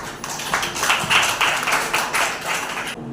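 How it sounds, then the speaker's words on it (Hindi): A church congregation claps together in a burst of several quick, loosely synchronized rounds of hand claps that rise and fall over a few seconds, then fade. "ताली बजाएंगे प्रभु।"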